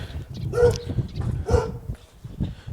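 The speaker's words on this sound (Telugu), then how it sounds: "అక్కడ కుక్క ఉంది కుక్క చూసి మరుగుతుంది" Two distinct dog barks about a second apart, moderately close, over low rumbling background noise.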